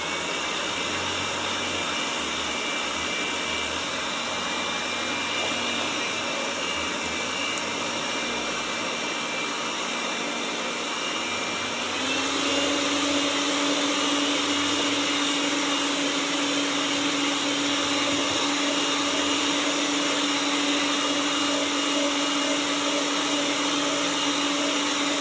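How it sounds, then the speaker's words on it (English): An electric mixer whips cream with cookie butter in a steady, droning whir that steps up to a louder, higher hum about halfway through, then holds constant, close by and with no talk. "I wanted the last 30 seconds or so to mix my cookie butter in with it"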